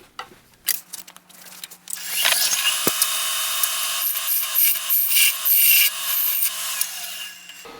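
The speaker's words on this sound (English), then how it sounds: "I'm also going to use the tool rest and my spindle gouge to remove some of this wood" A spindle gouge cuts wood from a sphere spinning on a lathe on a Vermec sphere jig. Quiet taps and rubs come first, then a loud, continuous rasping cut with pulsing surges, close up and without talk.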